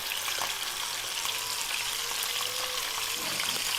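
Chicken pieces with scallions and chili sizzle steadily in a pan over above-medium heat, a dense, even frying hiss heard close with no talking.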